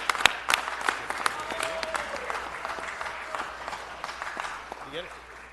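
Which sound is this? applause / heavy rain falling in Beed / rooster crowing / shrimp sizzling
applause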